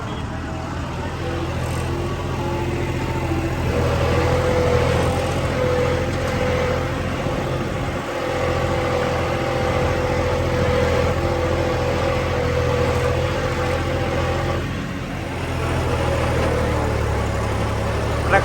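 A John Deere 5310 tractor runs with its engine speed dropped by about 500 RPM, giving a steady, fairly loud low rumble and hum that holds evenly throughout.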